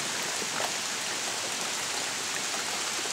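Steady rain during Hurricane Irene gives a continuous, hissing wash of drops with no breaks. It sounds moderately distant and even throughout, with no voices over it.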